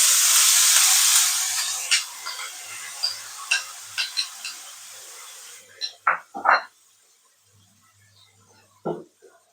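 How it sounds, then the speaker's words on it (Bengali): Spice paste for a bata fish mustard curry hits hot oil over a low gas flame and sizzles loudly at first, fading after a few seconds into occasional utensil clinks, with a brief voice near the end. "তেলটা আমার গরম হয়ে গেছে, গ্যাসের ফ্লেমটা লো করে দিলাম। এবার আমি এই পেস্টটা এর মধ্যে দিয়ে দেব।"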